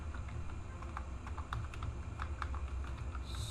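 Rapid, quiet keystrokes on a computer keyboard form an irregular run of light clicks close up, with no talking.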